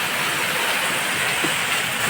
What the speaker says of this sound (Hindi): बहुत जम के बारिश हो रहा है।